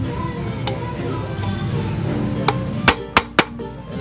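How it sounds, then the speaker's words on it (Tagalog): A hammer taps a mark onto a Suzuki Raider J F.I motorcycle brake part during a drum-to-disc brake conversion: faint light ticks at first, then three sharp loud metallic strikes close together near the end. "Papaluin nyo lang ng martilyo."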